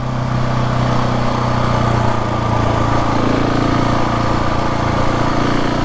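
KTM 690 Enduro R motorcycle ridden in poor weather conditions, its single-cylinder engine droning steadily and loud throughout, with a constant low rumble and wind-like broadband noise and no talking.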